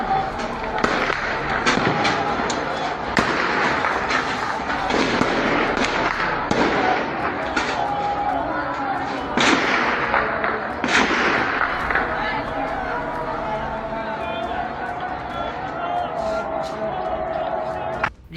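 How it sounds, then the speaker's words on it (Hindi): Repeated loud bangs and sharp blasts erupt irregularly in Pakistan-occupied Kashmir over a dense, noisy background of many voices chanting slogans together. "जहां आपने आवाजें सुनी होंगी धमाकों की, साथ में लोगों के नारे सुनाई दे रहे हैं"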